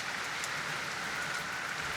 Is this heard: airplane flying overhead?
no